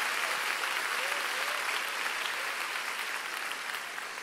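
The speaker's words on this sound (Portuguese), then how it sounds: "Aplauda ao Senhor por isso aí, no seu lugar, se você recebe." Congregation applauding at a church service, a steady, dense wash of clapping held at even loudness throughout, with a faint voice or tone drifting beneath the crowd noise.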